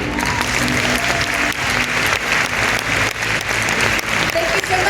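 Sustained audience applause fills a theater at the Canneseries 2024 closing ceremony, a dense, steady clapping wash lasting throughout, loud and close, with faint crowd murmur beneath.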